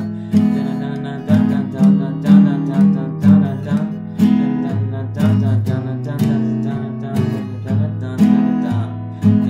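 An acoustic guitar strums the chords of verse two of a song on all four beats. Steady, even strokes in a clear repeating rhythm, close and solo with no voice.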